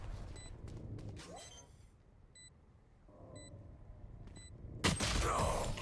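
Gunfire in the video game Valorant comes in a few short bursts with small electronic beeps between them, ending in a louder, dense burst of shots near the end.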